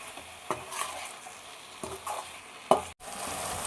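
Spices with turmeric, coriander powder and garam masala frying in a pan for mutton brain kheema, a low sizzle broken by several scraping stirs, the sharpest near the end before a brief cut.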